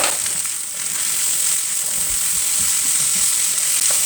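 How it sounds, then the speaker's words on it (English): Vegetables and bell pepper frying in a pan with softened onion for a sweet chilli chicken and prawn stir-fry, a steady bright sizzle with light crackling and occasional soft stirring scrapes, close and continuous. "we're gonna add all these vegetables to the softened onion"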